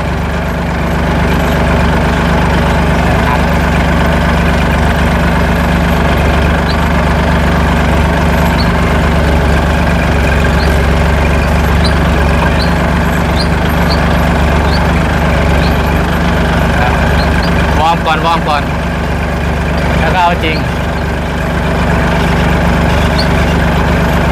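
Kubota farm tractor engine running steadily during a test drive in a rice field, a loud continuous low rumble with a constant drone and a few brief rattles partway through, no talking.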